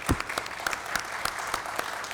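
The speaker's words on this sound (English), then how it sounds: "So I'd like you all to give Diane a round of applause now." A room of people at a city council meeting applauds an honoree, a brief burst of scattered, moderately close handclaps with a few sharper individual claps standing out.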